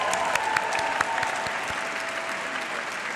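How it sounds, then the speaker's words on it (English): Audience applause filling an awards-ceremony hall, a steady wash of many hands clapping at moderate distance, sustained without letup. "Can we take a minute? Round of applause."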